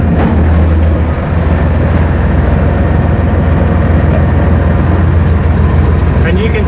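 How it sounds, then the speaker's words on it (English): A tractor runs near the microphone as its PTO is engaged to drive a Massey Ferguson RK802TRC rotary hay rake, giving a loud, steady low engine drone with an even mechanical rumble throughout. "So we're going to start the PTO."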